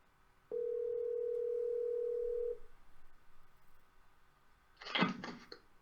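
A telephone dial tone sounds as a single steady tone lasting about two seconds, followed after a pause by a brief burst of clicking handling noise.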